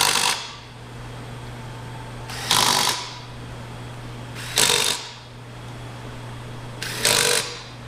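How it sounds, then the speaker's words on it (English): A battery-powered 1/4 inch impact driver rattles in four loud, short bursts as it tightens lug nuts on a Polaris ATV wheel, with a steady low hum filling the gaps between bursts. "you're only using a 1/4 inch battery powered impact"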